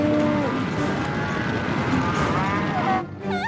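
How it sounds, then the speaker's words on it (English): Cartoon cows mooing loudly in a dense, continuous herd mix as they stampede toward a pony town, with low lowing tones layered over rumbling noise that cuts off near the end before a brief warbling sound. "But these cows start stampeding towards Ponyville."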